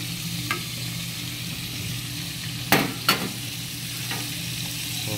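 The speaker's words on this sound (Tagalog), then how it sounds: "Yun, kulong-kulo na yung ating sangkap." A pot of stew with fried tilapia and kulitis greens bubbles at a steady simmer, a constant hiss, broken by a few sharp clinks of a utensil against the pot.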